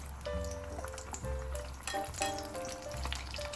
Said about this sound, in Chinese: 只有很疗愈的油炸声